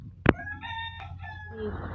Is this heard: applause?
no